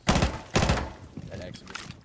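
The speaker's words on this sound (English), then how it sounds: "They hear the explosions over" Explosions and rapid gunfire in the tactical shooter Rainbow Six Siege, two loud bursts up front followed by quieter scattered shots and rumbling, with faint voices mixed in.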